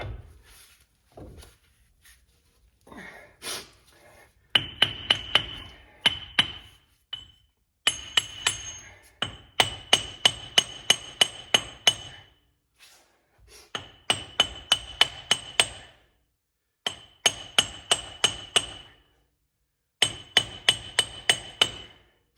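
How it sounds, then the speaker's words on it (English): A hammer strikes a seal driver tool to seat a leaking front inner axle seal on a Ford Excursion, sharp ringing metallic blows in rapid bursts of several hits separated by short pauses. "I'm gonna get the seal driver tool and give it a couple whacks and let it sit."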